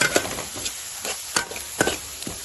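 Green banana stirred with masala in hot oil: a soft steady sizzle with several scraping strokes of a spoon against the pan, close up.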